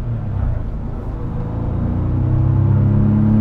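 A 1997 Porsche 993 with an air-cooled engine accelerates in second gear, its deep, throaty rumble swelling steadily louder and heavier as the revs climb, with no talking over it.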